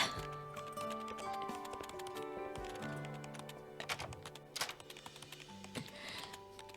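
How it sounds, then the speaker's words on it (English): Computer keyboard typing in a story video game, a frantic burst of fast, dense key clicks rattling continuously, softly placed over light background music. "He's typing like a madman."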